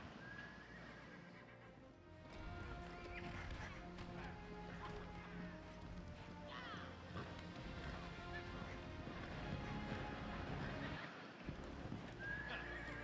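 A horse whinnies and hooves clop steadily at a walking pace, fairly quiet, with outdoor ambience and a second neigh near the end.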